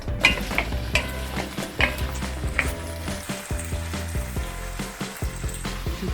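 Olive oil sizzles and crackles steadily in a pan on the stove while being stirred, with clinks and scrapes of a utensil against the pan at close range and no voices.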